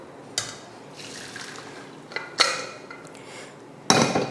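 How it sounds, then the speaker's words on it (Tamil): Boiled chana dal is strained and drained in a kitchen, with water splashing and trickling through a strainer, punctuated by a few sharp clinks of metal utensils, close and fairly quiet. "இதை வடிகட்டிடலாம்."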